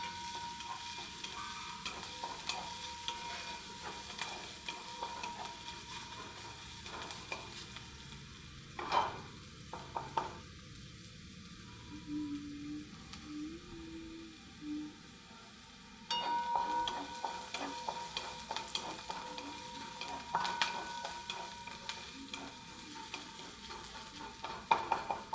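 Chopped onion frying in a pan for an aloo palak bhaji, a soft steady sizzle with occasional stirring scrapes and clicks, close and fairly quiet, no talk.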